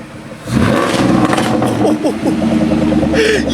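Loud revving from a straight-piped 2003 Mustang Cobra engine, rising and falling in several quick blips close by, with people talking over it.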